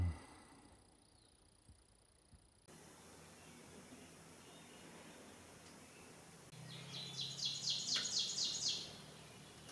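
Birdsong in green woods near a parked camper, with quiet chirps early on and then a brighter trilling song from a nearby bird against a faint, breezy background.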